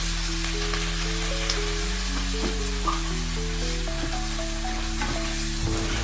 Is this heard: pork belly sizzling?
yes